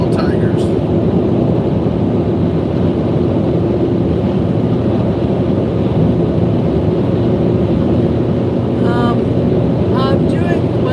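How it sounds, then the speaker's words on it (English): Steady engine drone from a car driving along a road, a continuous low rumble with road noise filling the whole stretch, while brief faint voices surface near the end. "getting drowsy from the sound of the engine"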